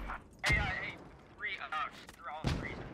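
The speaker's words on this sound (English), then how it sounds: "He's got to run through mortar fire on one side and machine gun fire on his other" Mortar and machine gun fire in the war video game Operation Arrowhead. Two sharp, loud blasts land about two seconds apart, with someone talking in between.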